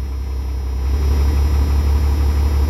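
A loud, steady 12-valve diesel truck engine idles close by around 770 rpm with a deep low rumble and constant drone, no talking over it.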